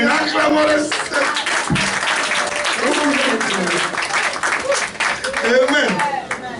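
A church congregation applauds during a worship service, a dense wash of clapping mixed with voices and cheers, sustained and loud with uneven swells.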